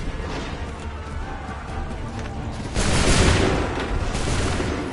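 A musket volley in the Assassin's Creed 3 video game, a sustained burst of gunfire erupting partway through after a rumbling battlefield ambience, loud and close, with no talk.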